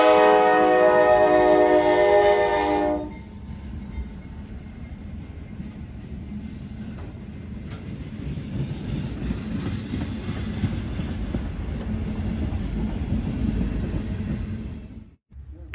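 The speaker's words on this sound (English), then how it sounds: "Here, it seemed as though he picked up a little bit more speed, with the horn blaring as loud as it was." A Norfolk Southern freight train rolls past near milepost 155 outside West Jefferson, its loud horn blaring for about three seconds before giving way to a steady, close rumble of wheels and rail cars that continues to the end.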